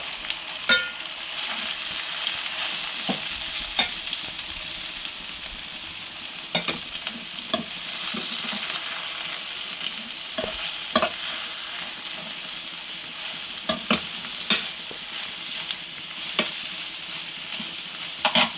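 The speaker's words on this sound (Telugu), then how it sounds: "క్యారెట్, ఇవన్నీ బాగా వేగాలి" Shredded cabbage and carrot fry in a pan, a steady bright sizzle broken by repeated scraping clicks of a spoon stirring, close and fairly quiet, with no voices.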